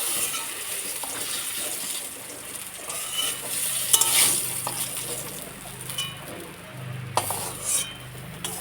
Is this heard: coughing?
no